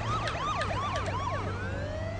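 Police car siren in the game H1Z1, wailing in rapid repeated up-and-down sweeps that then settle into a slower rising tone, loud and steady over a constant low engine hum, with no talking.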